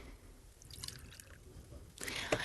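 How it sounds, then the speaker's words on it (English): A person takes a sip of water close to the microphone, a brief wet gulp and slurp followed by a louder rustle or clink near the end, with no talking. "I'm sorry, I just have to take some water."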